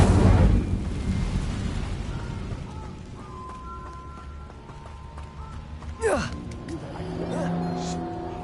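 Incendio fire spell in Hogwarts Legacy bursts with a loud whooshing roar that fades into rumbling flames, followed by a rising magical swoosh, while a voice talks underneath.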